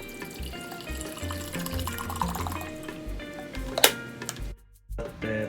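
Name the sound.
filling a kettle with filtered water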